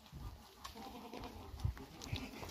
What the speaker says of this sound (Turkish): Arkadaşlar yeni doğmuş kuzu seviyoruz.